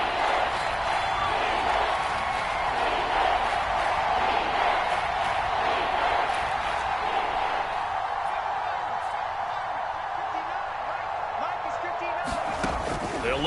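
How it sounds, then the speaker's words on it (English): A football stadium crowd roars in a dense, continuous wall of noise during an Eagles game, holding loud and steady throughout while a commentator talks over it. "this crowd's going to get even louder"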